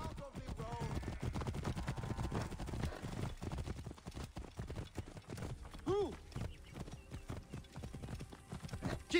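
Horses gallop in Assassin's Creed Origins, hooves clip-clopping in a rapid steady rhythm throughout, with a neigh partway through and faint voices in the background.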